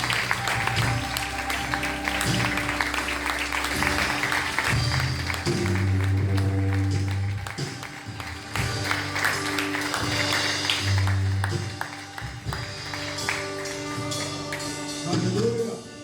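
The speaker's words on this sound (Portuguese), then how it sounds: "Você pode aplaudir o Senhor." A church congregation claps along through a steady wash of hand noise, mixed under sustained keyboard music during a worship service.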